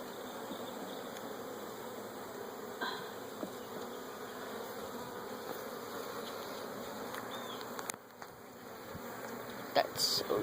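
Bees swarm around an open beehive, a continuous close hum with individual insects buzzing past the microphone and a few brief knocks near the end.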